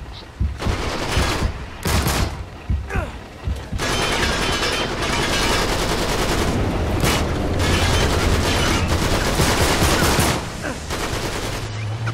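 An armored pirate fires heavy automatic gunfire in the video game Uncharted 3: Drake's Deception, loud sustained bursts and booming impacts filling the scene after a few separate shots, with no one speaking.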